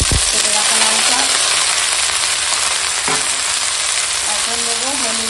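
Chopped red amaranth leaves hit hot oil with fried green chilli, onion and garlic, a loud continuous sizzle with occasional stirring scrapes, close up and without talk.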